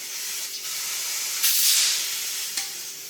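Epoxy being turned on a lathe with a dulling carbide cutter gives a steady, close hiss and scrape throughout, with a brief louder, harsher burst near the middle.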